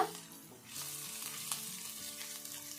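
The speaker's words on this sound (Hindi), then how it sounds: "और जीरे को भी हल्का सा फ्राई करेंगे" Cumin seeds crackle and sizzle in hot oil with garlic and ginger, a soft steady frying hiss with a few stirring scrapes, heard up close without talk.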